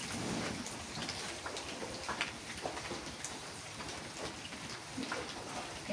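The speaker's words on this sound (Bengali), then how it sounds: "বৃষ্টি হইতেছে, খড়িগুলো নরম ড্যাম হয়ে যাইতেছে, এখন জাল ধরা একটু কষ্ট।" Steady rain falls outdoors in a rural village kitchen area, a dense even patter with scattered drop ticks over a constant wash, with no voices.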